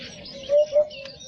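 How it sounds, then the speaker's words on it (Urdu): A recorded hoopoe call plays as two short, soft hooting notes in quick succession, alone over a quiet background hiss. "اور یہ پرندہ ہے ہدہد"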